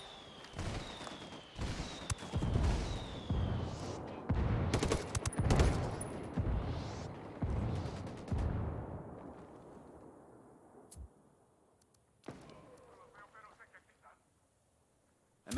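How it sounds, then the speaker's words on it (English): Rapid gunfire crackles in a video game firefight between rebels and a cartel, dense volleys and bursts for about eight seconds before thinning to scattered distant shots and near silence, with a voice speaking over parts of it. "Got some rebels trading shots with the cartel."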